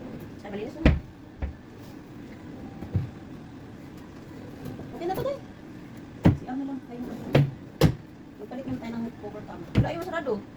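Drawers in a condo being opened and closed several times, sharp wooden thuds and slides scattered through the clip amid people talking nearby.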